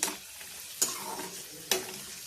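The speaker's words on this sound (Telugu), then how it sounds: "ఇవి వేగినాక పాయసంలో కలుపుకుందాం ఫ్రెండ్స్" Coconut pieces fry quietly in a pan for jaggery rice, a soft steady sizzle broken by three sharp scraping stirs of a spatula, with no talking.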